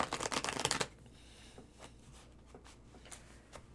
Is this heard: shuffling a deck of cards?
yes